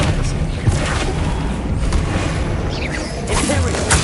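An Expelliarmus disarming spell is cast in Hogwarts Legacy on PS5, a whooshing burst with a booming impact amid game ambience and music, with speech at times.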